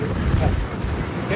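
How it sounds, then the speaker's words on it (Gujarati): Wind gusts across Porbandar beach, a loud, steady buffeting rush against the microphone with faint surf underneath, heard on its own for over a second. "ટાટો ટાટો પવન આવે."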